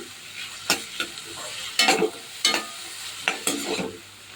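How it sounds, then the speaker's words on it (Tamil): Onions sauté in a thick-bottomed kadai, a soft steady sizzle broken by a handful of sharp spatula scrapes and stirs at irregular intervals, close up with no talking. "இது வந்து நல்லா பொன்னிறமாக வதக்கணும் வெங்காயத்தை"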